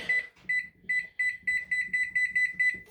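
A kitchen timer beeps as it is set, giving a run of short, high electronic beeps, irregular at first and then quicker and evenly spaced, close and clear with faint background noise.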